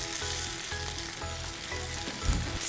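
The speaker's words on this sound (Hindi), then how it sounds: "अभी एक साइड में हम ये बेल पेपर्स डाल देते हैं और इनको भी हाई फ्लेम पे 1 से 2 मिनट के लिए कुक करेंगे।" Bell peppers and paneer fry on high flame in a pan, giving a continuous close sizzle with light stirring scrapes throughout.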